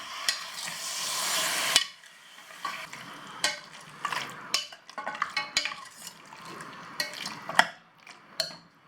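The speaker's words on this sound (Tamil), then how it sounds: "இது வந்து மட்டனை சேர்த்து ஒரு 2-3 நிமிஷத்துக்கு நல்லா வந்து கிளறி விடுங்க" Mutton for ghee roast sizzles loudly as it hits a hot pan, then a spoon stirs it with repeated scraping and clinking against the pan over a softer sizzle, no voices.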